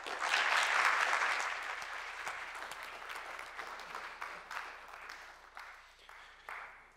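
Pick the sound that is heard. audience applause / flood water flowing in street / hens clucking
audience applause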